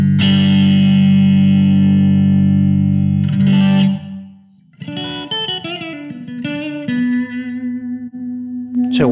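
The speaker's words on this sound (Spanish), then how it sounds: "El primer efecto de reverberación sería este." Reverb effect on a Blackstar ID:Core V4 guitar amp: a sustained, loud distorted electric guitar chord rings out, then short picked notes and chords follow, each trailing off with a roomy reverberant tail, no voices.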